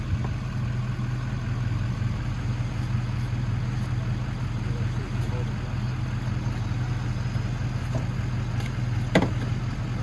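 A Chevrolet pickup truck engine idles steadily with a low, constant rumble throughout, with faint clicks and knocks over it, while stuck.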